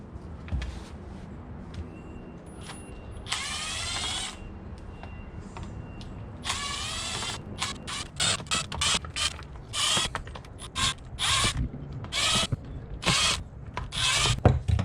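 A Phillips screwdriver loosening screws on a Yamaha outboard air intake makes repeated squeaky creaks and ratcheting scrapes in short bursts, close up and growing more frequent, with no talk.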